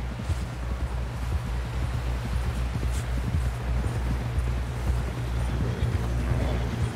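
Horse hooves clip-clopping in Red Dead Redemption 2, a steady rhythmic gait over a low rumbling background, continuous and moderately close with no talk.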